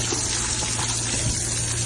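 Water gushes steadily while a BMW car is being washed, a continuous close hiss of spraying and splashing with a low pump-like hum beneath it.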